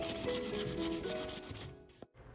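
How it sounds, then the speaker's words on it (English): Close, quiet rubbing of sandpaper against the edges of a wooden canvas float frame in quick back-and-forth strokes, stopping briefly near the end. "I began by sanding the edges of the frame to remove the excess rough edges"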